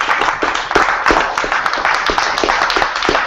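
A crowd at a hip-hop town hall breaks into dense, sustained applause, many hands clapping together at a steady loud level from start to finish.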